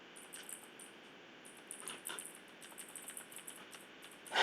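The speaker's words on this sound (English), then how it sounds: "Having some issues typing" Quiet, uneven bursts of clicking keystrokes on a computer keyboard come in short runs with brief pauses, ending in a sudden louder rustle.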